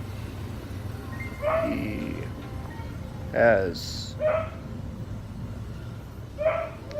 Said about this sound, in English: And that is my dog